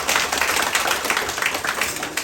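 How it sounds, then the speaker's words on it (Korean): A dense, loud burst of clapping from the audience at a Korean poetry forum, continuous and close throughout the short stretch. "박수 한번"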